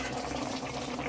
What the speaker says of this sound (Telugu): అన్నం ఉడుకుతున్న సౌండ్ కూడా అమ్ములు అరుస్తుంది.